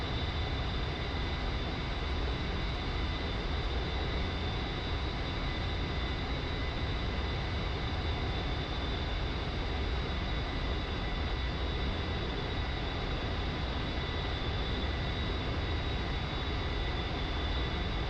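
An A-10 jet flies at high altitude in a flight simulator game, a constant broadband engine roar with a faint steady whine and no variation.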